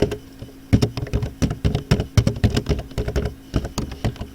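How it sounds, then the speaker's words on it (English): Fingers type on a computer keyboard, a close, steady run of crisp, irregular keystrokes with brief pauses between bursts and no talking. "And you just want to type in your tagline"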